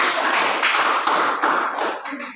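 Dense, steady applause from a classroom full of students cheering on one student group, sustained at a moderate level for a couple of seconds before tapering slightly.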